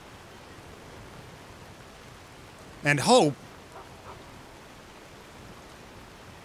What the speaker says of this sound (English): Skyrim rain.